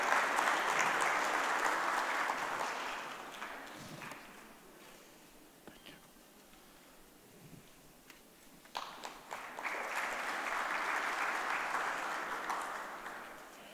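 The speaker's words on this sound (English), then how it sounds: "Gentlemen, give them a round of applause." An audience at a procurement and supply chain conference at the Atlantis in Dubai applauds, with a full burst of clapping that fades to a quiet lull with scattered taps and murmurs, then swells again.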